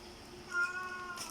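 A house cat meows once, a brief tonal cry close by over a low steady hum, with faint background noise and no talking.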